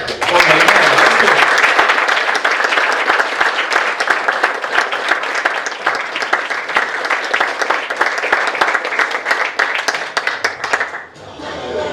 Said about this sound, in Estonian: teeme aplausi